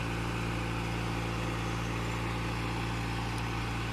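A diesel engine driving a deep-well irrigation pump runs close by at a constant loud, even drone with a steady low hum, never changing pace, with no voices over it.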